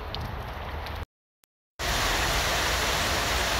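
Heavy rain pours steadily in a dense, loud hiss, cut off by a brief gap of near silence before resuming just as strongly.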